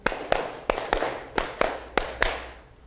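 A class of pupils claps hands in a counted classroom rhythm, about eight sharp claps in uneven groups, close and loud with no talk over them.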